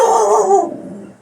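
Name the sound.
dog barking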